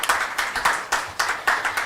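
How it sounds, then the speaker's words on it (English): Audience applause at a literature and art festival in Bhopal, with a loose crowd of hands clapping in a steady, rippling rhythm for a couple of seconds and no talk over it. "Can we give them a huge round of applause once again for this amazing conversation?"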